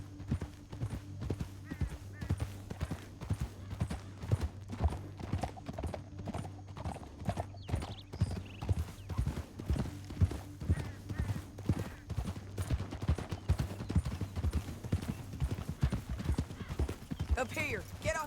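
Horses' hooves clip-clopping at a steady pace in a Western open-world game canyon, with a low engine-like drone of music beneath, occasional whinnies and people talking over the hoofbeats throughout.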